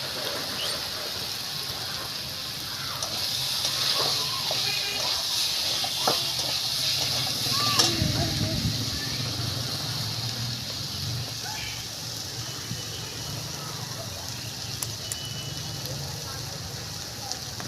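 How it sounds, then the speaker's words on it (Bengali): Spice paste of tomato, ginger, ground cumin and chili paste sizzles in a hot pan, a steady close hiss and crackle that holds through the whole stretch, with a voice faintly underneath. "এর মধ্যে একটা টমেটো কেটে দিয়ে দেবো দিয়ে এবার তোমার এর মধ্যে আদা জিরা বাটা লঙ্কা বাটা ওর মধ্যে দিয়ে ভালো করে মশলাটাকে আস্তে আস্তে কষাবো"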